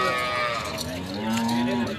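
A Friesian cow at a cattle market lets out one long, low moo that rises slightly and holds, close by, over a busy backdrop of market chatter and noise.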